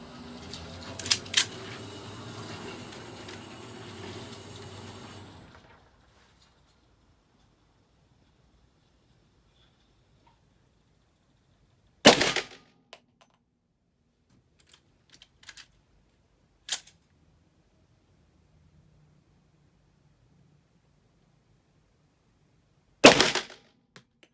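A Desert Eagle pistol is fired on an indoor shooting range from about ten metres. After a stretch of low background noise, two sharp, loud single shots ring out roughly eleven seconds apart, with faint clicks and handling noises between them.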